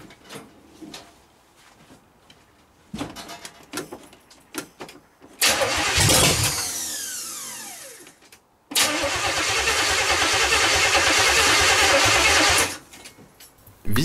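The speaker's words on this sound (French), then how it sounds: "Un petit coup de start pilote nous permettra de savoir si le moteur a envie de donner de la voix." A 1977 Chevrolet Caprice engine cranks on starter fluid: soft clicks and a brief crank lead into a loud roar of about three seconds, a short cutoff, then another sustained loud run of about four seconds before it dies, with no voices.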